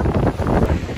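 Strong gusts of wind blowing outdoors in Montenegro make a steady, close, roaring rush of air that buffets the microphone for about a second, with no voices.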